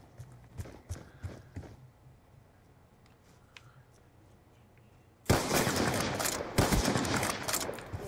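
Gunfire in the Call of Duty: Black Ops 2 video game: scattered faint clicks and steps at first, then a sudden sustained burst of loud, dense shots that keeps rolling to the end.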